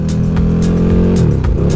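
A KTM Super Duke motorcycle accelerates hard along a loose-gravel dirt road, its engine loud and close with a throaty, rising rev and a quick shift in pitch, no talking.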